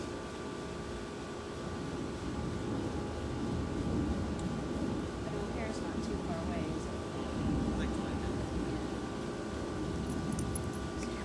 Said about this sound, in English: We have a lot of airplanes because of the Indianapolis airport, and the planes are already starting to come down